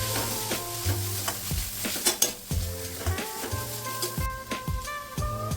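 Onion, garlic and finely chopped ginger sautéing in a pan for a Kerala sadya masala curry, a steady sizzle with repeated scraping stirs and spoon knocks against the pan, close and alone without talk.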